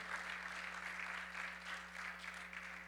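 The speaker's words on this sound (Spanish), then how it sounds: "Un aplauso al Señor por el hermano Chisín" A church congregation claps for a brother about to preach, a soft, continuous patter of many hands heard from a distance over a steady low electrical hum.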